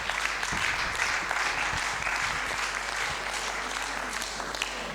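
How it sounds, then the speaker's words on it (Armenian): Audience applause at a training event welcoming a team leader, a dense steady wash of many hands clapping, moderately loud and sustained, with a few voices faintly underneath. "Շնորհակալ եմ շատ ծափողջունների համար"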